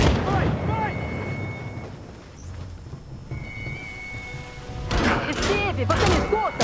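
A grenade blast in the Marvel's Avengers video game, a loud booming burst with rumbling low-end debris and crackle, mixed with game music and effects, before a voice speaks over it.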